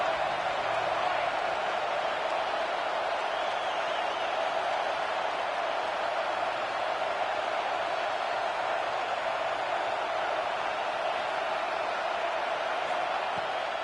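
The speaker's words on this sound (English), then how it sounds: "Big 3rd down as the crowd gets behind this defense." A football stadium crowd at a Mizzou versus Oklahoma game roars steadily through a big third down, a dense, continuous wall of cheering noise heard at a distance without a break.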